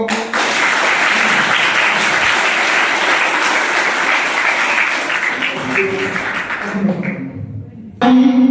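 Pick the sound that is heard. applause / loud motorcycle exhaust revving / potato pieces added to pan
applause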